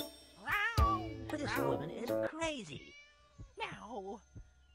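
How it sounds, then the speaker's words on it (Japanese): Cat meows in a video game, several short pitched meows close up and clear, in a game where a cat brainwashes an old woman, with game sound effects around them. "ニャオニャオ。"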